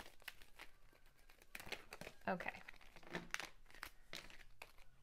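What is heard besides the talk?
shuffling an oracle card deck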